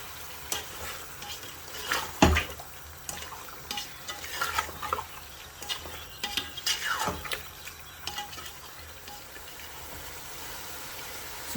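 Meat and spices for aloo gosht stirred in a frying pot, a steady low sizzle with scattered scraping and clinking of the spoon against metal, close and moderate in level, with no talking.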